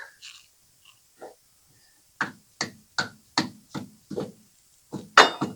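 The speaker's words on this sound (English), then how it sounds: "I'm just going to tap it free here, the hammer, break it loose." About eight sharp hammer taps ring out on a Lamborghini's leaking rear differential cover as it is knocked loose, in quick succession, close by, after a few quieter knocks at the start.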